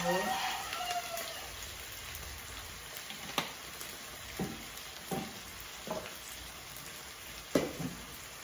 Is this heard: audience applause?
no